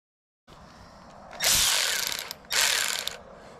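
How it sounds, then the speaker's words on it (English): Two bursts of harsh metallic ratcheting and grinding from a hand tool installing rivet nuts, close up, separated by a short pause. "and then we're gonna install rivet nuts"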